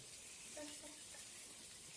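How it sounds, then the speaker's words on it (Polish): Water poured into a hot pan while making pasta sauce gives a faint, soft splash and hiss lasting a couple of seconds. "dodamy trochę wody"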